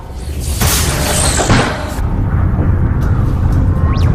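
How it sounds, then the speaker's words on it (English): A loud explosion inside a spaceship airlock in a science-fiction film, with a heavy booming blast and a sustained roaring rumble for several seconds, followed by lighter hissing and whooshing debris sounds. "Some sort of explosion in the airlock."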